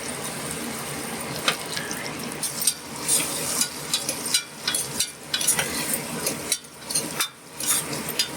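Chopped onions and green chillies fry in hot oil in a pan, stirred with a spoon, giving a steady close sizzle broken by repeated scraping strokes, with no talking.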